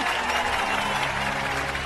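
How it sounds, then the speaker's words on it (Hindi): A crowd claps densely and continuously in a short burst during a speech scene in a Hindi-dubbed film. "बजाओ ताली"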